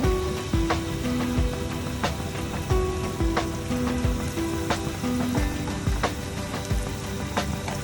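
A spice mixture is stirred in a frying pan while cooking shahi khichuri, giving a steady sizzle with scraping stirs throughout, loud and close, with no talk.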